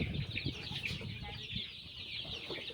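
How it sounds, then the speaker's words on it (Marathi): Several chickens cluck and murmur close by in a steady, busy chorus, with faint voices mixed in. "इथं आहे बघा किती कोंबड्या"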